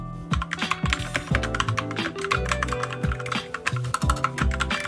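Rapid typing on a Hayabusa 60% keyboard from Alferior Keys with Kale Silver Speed switches and double-shot PBT keycaps, a steady stream of close, sharp key clicks running alongside a tonal musical backing throughout.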